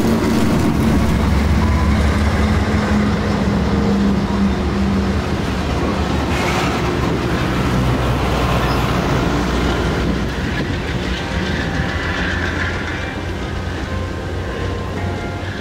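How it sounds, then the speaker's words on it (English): Northbound Train 903 passes on the main line in northeast Pennsylvania, hauled by locomotives including number 34. Its loud, steady rumble and rail clatter fill the whole stretch, heard up close and easing only slightly toward the end. "Train 903 heading northbound with the Brick's unusual sister"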